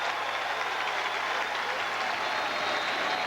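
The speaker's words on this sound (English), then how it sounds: "And the crowd comes to its feet here in Piscataway." Stadium crowd at a 1996 Rutgers versus Miami college football game in Piscataway rising to its feet, a loud, steady wash of cheering and applause that holds without a break.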